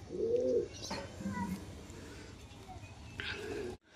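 Pigeons cooing inside a bamboo cage, several soft low coos in short rounded phrases, close and fairly clear, with faint chirps and light background rustle between calls.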